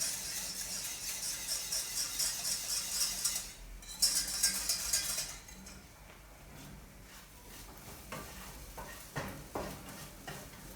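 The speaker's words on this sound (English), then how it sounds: "let's mix the bechamel" A spoon scrapes and clinks while stirring a white truffle béchamel sauce in a pan, with a soft sizzle underneath, first steady and bright, then quieter with scattered taps against the pan.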